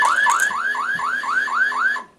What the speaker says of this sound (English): Select it on with alarm